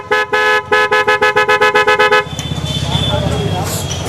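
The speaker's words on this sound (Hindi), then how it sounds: "यहाँ पर इंस्टॉल कर दिए गए इसके हॉर्न, जो कि इसके स्टॉक हॉर्न आता है उसको हटा दिया गया है" An aftermarket horn fitted to a TVS Jupiter BS6 scooter toots loudly in a rapid string of about a dozen short, even blasts, then gives way to a steadier background of road and engine noise.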